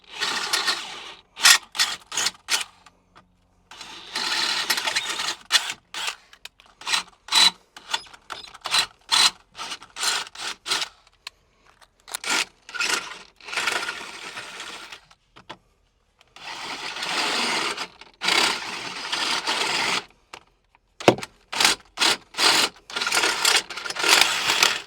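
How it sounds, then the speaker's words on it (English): A power drill with stepped bits whirs in repeated short bursts separated by pauses, each run grinding briefly through a Polaris Xpedition's A-pillar, enlarging holes up to 17/32 inch, loud and close. "I'll step up in increments all the way up to our 17/32 drill bit"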